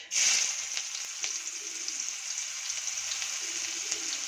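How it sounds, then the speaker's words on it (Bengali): Onion dropped into hot oil for catfish curry bursts into a loud sizzle, then settles into a steady crackling fry with light stirring clicks, close by and without talk. "পেঁয়াজটা দিয়ে কিন্তু ভালো করে ফ্রাই করে নেব।"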